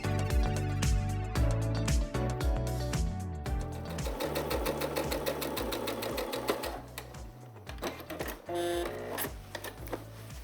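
A sewing machine stitches the last seam of a patchwork block, starting in slow, distinct needle thumps that speed into a fast, steady clatter before slowing and stopping, close and clear, with no voices.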